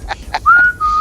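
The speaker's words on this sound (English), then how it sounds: "Okay, everybody whistle." Someone whistles nearby, a few brief chirps and then two longer steady held tones, loud and clear with no talk.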